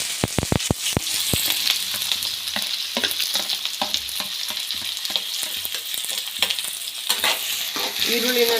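Four or five sliced onions frying in a pan after popping mustard seeds and cumin: a dense, loud sizzle with rapid crackling pops at the start, then steady frying with frequent spatula scrapes and stirring, no voices.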